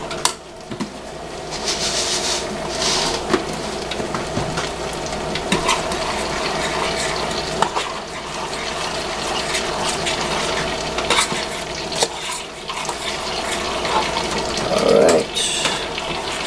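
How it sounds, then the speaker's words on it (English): Wet oats are stirred in a pot on a stove, giving a continuous scraping, sloshing churn with irregular knocks of the spoon against the pot, close and fairly loud with no talking. "I'm just stirring up my oats, getting them nice and wet"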